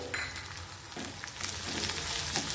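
A ground paste of green chili, garlic, ginger and cumin sizzles and crackles steadily in hot oil for a drumstick dal, with soft stirring scrapes close by.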